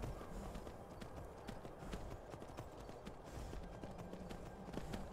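Horse hooves clip-clop steadily along in Skyrim VR, a continuous run of quick hoofbeats over a busy game ambience with no talk.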